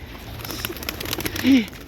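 A single low, brief coo from a Turkish tumbler pigeon comes near the end over faint background noise, preceded by a few soft indistinct sounds.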